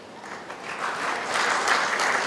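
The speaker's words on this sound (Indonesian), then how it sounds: "Berikan tepuk tangan yang meriah sekali lagi" An audience at an awards night for the Indonesia Smart Nation Award 2015 applauds steadily, the dense clapping swelling slightly louder toward the end with no voices over it.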